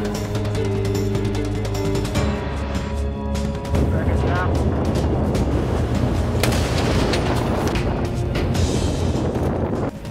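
Heavy, repeated booming bursts of Project BUHAWI weapon test fire at sea at night, dense rolling blasts and rumble that intensify midway, with a voice speaking over the opening.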